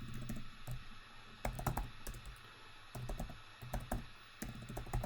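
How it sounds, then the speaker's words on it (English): Bursts of typing on a computer keyboard during a spreadsheet setup in Excel, with quick clusters of clicking keystrokes separated by short pauses, close and fairly quiet with no talk. "we'll type month, we'll type income, outgoing"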